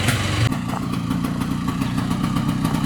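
A 55-year-old Johnson engine running, heard as a loud, close, continuous rumble with a rapid steady beat, shifting slightly in tone after the first half-second.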